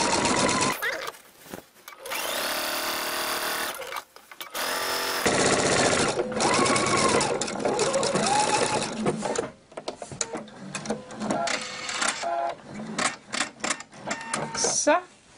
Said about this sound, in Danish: Så får vi simpelthen båndet syet fast nu her i den øverste kant.